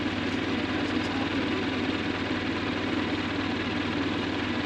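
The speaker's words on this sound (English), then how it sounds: "This is as slow as the tractor goes." A tractor engine idles along at its slowest speed during potato planting, a steady low rumbling drone with vibration, continuous and close, no talking.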